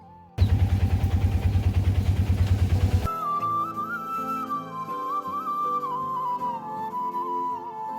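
A small auto rickshaw engine chugs loudly with a fast, even putter for a few seconds, then cuts off, leaving a steady whistling tone and faint rumble.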